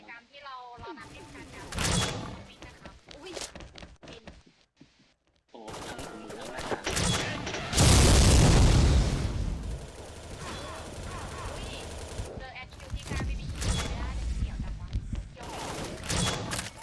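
Gunfire in the shooting video game XSHOT: scattered shots, then rapid volleys and a loud heavy blast midway, while someone talks excitedly between the bursts.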